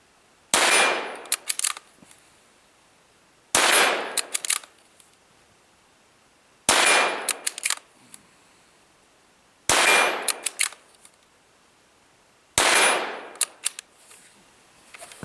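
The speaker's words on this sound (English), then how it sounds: "we'll take a few shots with it right now" Five sharp gunshots from a Savage Model 93 .22 Magnum rifle, evenly spaced about three seconds apart, each a loud close crack followed by a short ringing decay into quiet.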